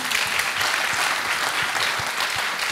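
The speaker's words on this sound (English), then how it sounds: "Round of applause for her." An audience at a science education keynote session breaks into loud, continuous applause, many hands clapping together in a dense, even roar with no voices on top.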